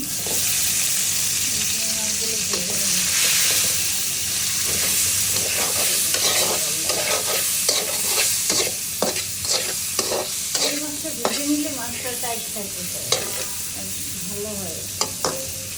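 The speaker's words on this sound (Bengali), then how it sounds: "সামান্য পরিমাণে তেল দিয়ে যে চিংড়ি মাছ দিয়ে রান্না করব সেটা ভেজে নেব" Prawns frying in a little oil, a loud, constant close sizzle with repeated spatula scrapes and taps that grow more distinct and spaced out toward the end.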